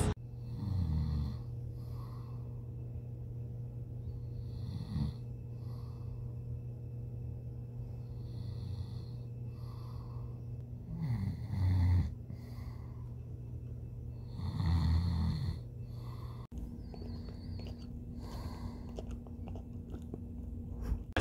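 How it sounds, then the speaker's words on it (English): Slow, rhythmic dog snoring, with low rumbling snores repeating every few seconds in a quiet room and occasional snorts. "Not me snoring, it's the dog."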